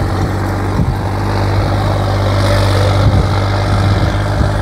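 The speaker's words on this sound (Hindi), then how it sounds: "ट्रैक्टर चल गया बढ़िया है भाई।" Swaraj 855 turbo tractor engine running steadily at a tractor contest, a loud, close diesel drone with a constant low hum and faint mechanical clatter, no talking.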